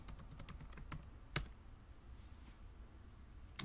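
A password is typed on a computer keyboard as quiet, scattered key clicks in a few short bursts, with one sharper keystroke standing out against a faint background.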